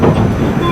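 Brief, close rumble and rattle of the Haruka limited express to Kansai Airport rolling over rails, a continuous low roar inside the carriage.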